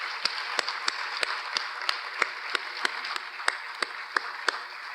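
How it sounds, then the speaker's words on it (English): Audience applause at an annual meeting honoring the Board of Trustees and CEO, a soft bed of clapping with a few sharp individual claps standing out at a fairly regular rhythm. "I'd like to take a minute for the audience to give them a round of applause for their hard work all year long"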